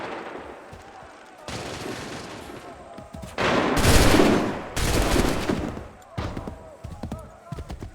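Musket volleys ring out in the video game Assassin's Creed III, with dense, loud bursts of overlapping shots swelling into a sustained roar before breaking into scattered cracks, as voices shout orders over the firing.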